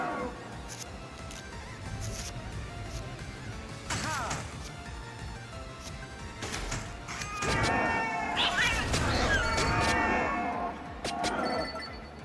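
Video game cats meow and caterwaul repeatedly in bursts, with crashes and thwacks mixed in, plus a busier stretch of overlapping meows near the end over background game noise.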